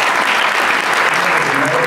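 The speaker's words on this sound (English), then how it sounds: "Let's acknowledge them and give them applause" An audience at a Black History Month celebration applauds honorees with loud, steady, dense clapping that fills the hall without a break.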